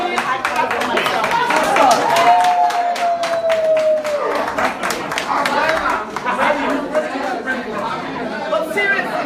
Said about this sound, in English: A round of applause for the board of directors.